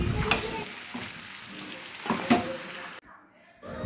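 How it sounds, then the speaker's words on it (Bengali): Mutton and pre-fried potatoes sautéing together in a pan, a soft steady sizzle with a few louder stirring scrapes, cutting off briefly near the end. "আলুগুলো দেবার পর আরও কিছুক্ষণ মাংসের সাথে ভালোভাবে কষিয়ে নিতে হবে।"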